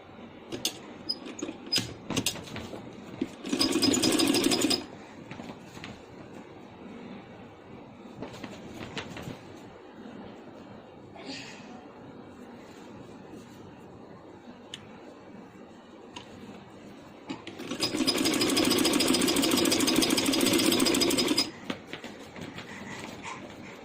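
Two sustained bursts of a machine whirring, each a few seconds long, as a sewing machine stitches a strip onto a handmade baby boy's 14 August dress. The stretch between them holds quieter handling noise.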